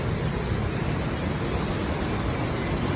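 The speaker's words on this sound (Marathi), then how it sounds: "पाण्याचा प्रवाह भरपूर आहे" A heavy stream in rain on a waterfall trek near Mahad, Maharashtra, giving a steady, dense, broadband rush of flowing water with no breaks or talk.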